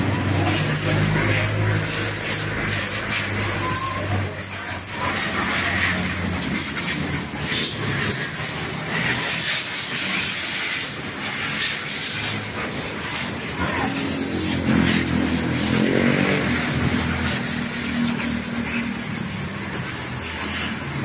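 A coin-operated self-service carwash sprays water and runs a blower on a motorcycle, a loud continuous hiss and rush of spray and air under some talking.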